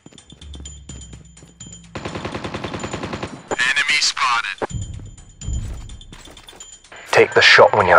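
Gunfire in COD Mobile breaks out in two loud, short bursts between stretches of in-game voices and radio chatter, with rapid shots clustered close together.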